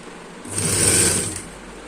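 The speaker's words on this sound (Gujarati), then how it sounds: "હવે અહીંથી આપણે અહીંયા સુધીની સિલાઈ લઈ લેશું" A sewing machine stitches fabric for an iron cover, a close, loud whirring burst lasting about a second that swells and fades, with no voices.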